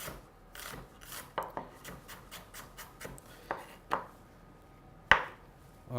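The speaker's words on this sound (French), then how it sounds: "on a coupé très finement le fenouil" A knife finely slices fennel on a board in quick rhythmic cuts, with a few firmer thuds and a sharp knock near the end.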